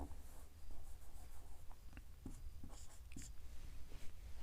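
A marker or chalk writes the number 17 on a board during a maths lesson, with faint short scratchy strokes close by, separated by pauses, over quiet room noise.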